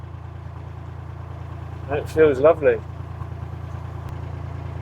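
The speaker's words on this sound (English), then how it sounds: "At the moment I'm doing just under 1200 revs." A canal boat engine cruising at a sedate pace just under 1200 revs on a winter canal trip, a steady low drone running throughout with someone briefly talking over it.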